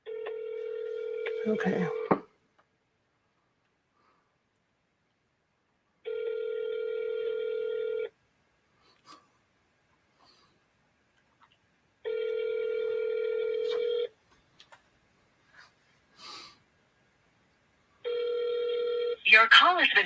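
Ringback tone on an outgoing telephone call: four long, evenly spaced rings about two seconds each with quiet gaps between, ending as a brief voice speaks at the close.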